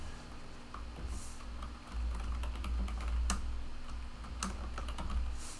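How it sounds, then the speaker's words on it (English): Quiet, close tapping on a computer keyboard as a chart title is typed into a Microsoft Excel spreadsheet: a steady stream of light key clicks over low room hum, with no voices. "so we can in the chart title type in displacement versus time."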